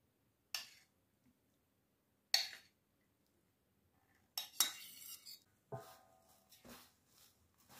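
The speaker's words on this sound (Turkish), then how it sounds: "Yağ ile beraber karıştırıyoruz." Shredded kadayıf pastry tossed with melted butter and margarine, heard as a handful of separate soft clinks and scrapes of utensil against a bowl, with quiet gaps between them.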